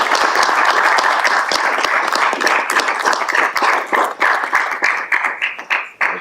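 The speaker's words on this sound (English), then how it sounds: "So if you would just join me in a round of applause for all of our city employees." A council chamber audience gives a round of applause for city employees, loud close clapping that is dense at first and then tapers into sparser individual claps as it dies away.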